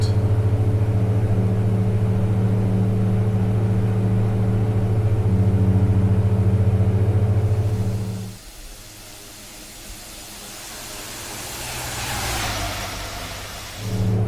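Saab 340A twin-turboprop in X-Plane 11 roars steadily at takeoff power during the roll near 105 knots, then the engine drone drops away abruptly, leaving a quieter airy hiss with a faint rising whine.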